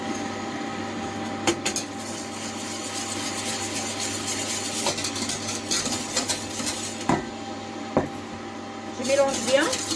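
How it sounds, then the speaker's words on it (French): Roux being stirred into bouillon in a pot over low heat, a utensil scraping and clinking against the pot in repeated strokes, close up, with a faint sizzle and a few sharper knocks, under quiet background speech. "Je vais rajouter le roux que j'ai réalisé en 5e étape et en même temps je mélange."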